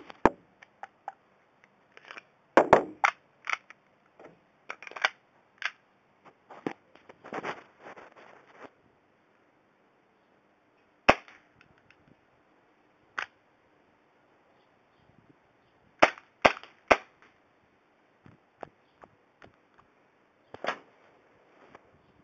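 A toy gun firing in short sharp bursts of small clicks and snaps, scattered unevenly with pauses between, fairly faint against a quiet outdoor background.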